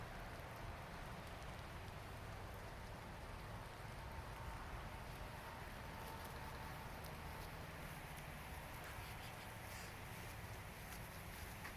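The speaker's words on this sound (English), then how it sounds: "And it's starting to rain." Steady rain beginning to fall outdoors on a trail hike, a constant even hiss of drops on surfaces throughout, with faint patter and possible footsteps nearby.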